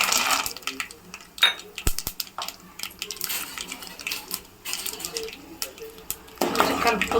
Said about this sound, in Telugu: గుండు మినపప్పు వేసిన పల్లీలు వేసుకుంటున్నా